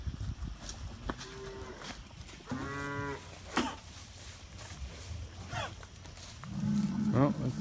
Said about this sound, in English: I hear the bulls.